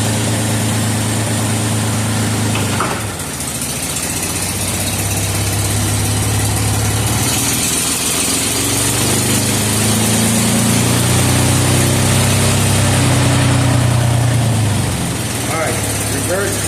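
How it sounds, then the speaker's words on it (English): A car engine idles steadily during a test of a Ford C4 automatic transmission, a loud close low hum that dips briefly as the gear is shifted, with the tone shifting slightly as it settles back to idle. "I'm going to stick it in reverse real quick, and then I'll put it in drive and see if it shifts."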